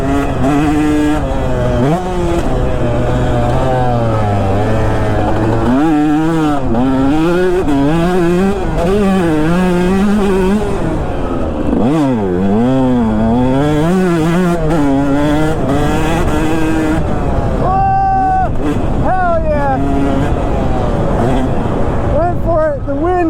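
A two-stroke motorcycle being ridden hard, its engine screaming and warbling up and down through revs and gear changes for the whole stretch, loud and close, with a rider talking over it at times.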